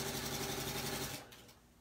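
A serger sewing machine stitches binding onto a quilt in a steady, close, continuous whir for about a second before stopping abruptly, leaving a faint quieter tail.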